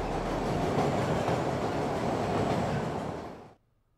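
A train rumbles along continuously, a dense steady roar heard from inside for about three and a half seconds before it cuts off abruptly into silence.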